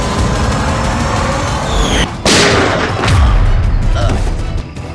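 A gunshot in a tense Bengali crime-drama standoff rings out amid a loud dramatic score, with a sharp broadband crack at about two seconds and another booming hit near three seconds.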